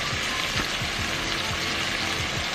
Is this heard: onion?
yes